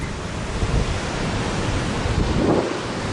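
Strong wind tears through a narrow mountain valley in Torres del Paine, a loud, continuous roar with gusty swells buffeting the microphone and no voices.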